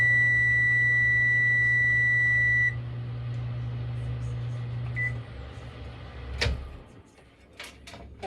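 A microwave oven hums steadily through a short heating burst for melting candy melts, with a tonal beep as it stops, then a door clunk and faint handling noises.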